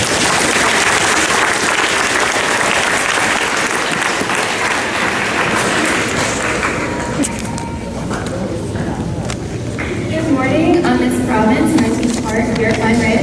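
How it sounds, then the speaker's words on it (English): A crowd applauds students at a middle school graduation ceremony at Pine Ridge, giving sustained, loud, dense clapping that thins toward the end as faint tonal sounds and murmuring emerge. "Give these students a nice round of applause."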